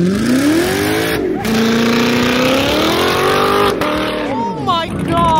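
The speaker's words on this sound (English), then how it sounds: "Rev it!" Engine of a BMW G87 M2 fitted with an ADRO rear diffuser revving hard outdoors, pitch rising and falling in repeated surges over about five seconds, with people talking over it.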